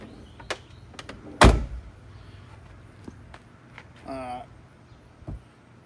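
A sharp mechanical clack of a Jeep Cherokee door latch, followed by lighter clicks and a brief whirring, close by with no talking.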